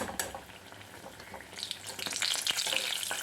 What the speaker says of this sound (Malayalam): ഇനി ചൂടായ എണ്ണയിലേക്കൊന്ന് ഫ്രൈ ചെയ്തിട്ട് കൊടുക്കാം